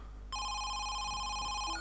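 In the horror video game Home Sweet Home, a phone starts ringing over a low background hum, its bright electronic trill steady and loud from its sudden start to the end, with no one speaking.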